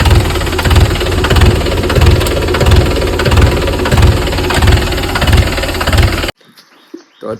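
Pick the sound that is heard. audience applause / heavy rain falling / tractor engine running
tractor engine running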